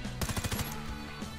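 A Honey Badger rifle fires in Warface: a quick burst of about six close, punchy shots in fast rhythm, then a fading tail and a lone softer hit.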